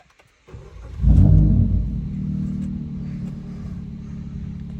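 A Maruti Ignis engine cranks and catches with a loud, close burst, then settles into a steady low idle rumble.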